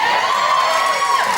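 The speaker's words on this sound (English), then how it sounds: "thank you for inciting that applause" A television studio audience cheers and applauds for comedian Russell Brand on a chat show, a dense, loud, sustained roar of whoops and clapping that carries straight through without pause.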